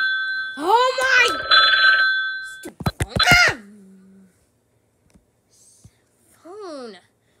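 A telephone ringing in the Talking Tom app, a bright trilling electronic ring lasting about two seconds, followed by chirpy high-pitched cartoon voice sounds and short tonal blips.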